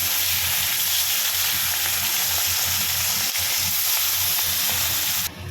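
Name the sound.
dry chillies, bay leaves and cumin sizzling in hot oil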